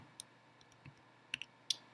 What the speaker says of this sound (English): So I'm going to go ahead and type that into the calculator.